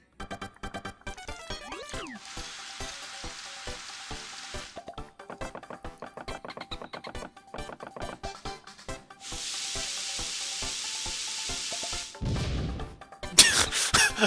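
Cooking a fire flower in Paper Mario: The Thousand-Year Door brings rapid rhythmic clicks and taps, then two long bursts of bright hissing sizzle, with a sharp fizzing flourish at the end.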